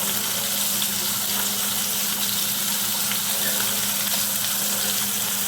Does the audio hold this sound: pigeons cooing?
no